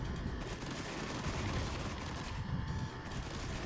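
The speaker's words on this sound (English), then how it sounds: "That's the sound of cluster mines." Cluster mines go off in the Cold War strategy game Regiments: a dense, continuous rumble of rapid muffled detonations, fairly faint and distant, with no voices.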